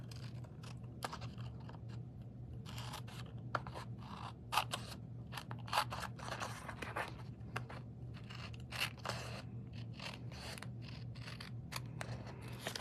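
Paper snips trim excess decorative paper from an envelope, making a steady run of crisp, close cutting snips over a constant low background hum, with no talking.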